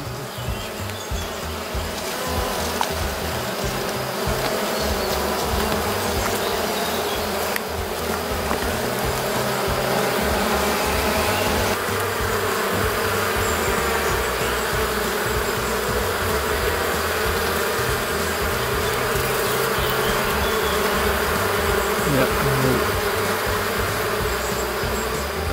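Black honeybees swarm and buzz around an open hive during a colony inspection, a dense continuous drone close by, loud and steady throughout with no speech.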